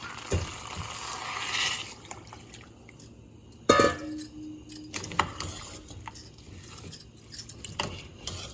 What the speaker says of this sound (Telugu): ఇప్పుడు వాటర్ వేస్తున్నాను.